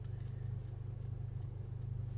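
A Volkswagen MK6 Golf R engine drones steadily from inside the car while driving on a back road, a low pulsing hum with a faint rhythmic throb, quiet and without speech.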